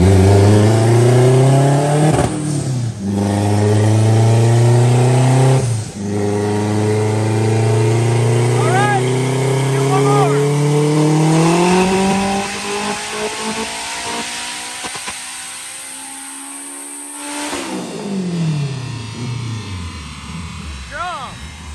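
A 725 horsepower car engine revs hard and accelerates loudly up close, its pitch climbing steadily before dropping off and fading to a lower rumble.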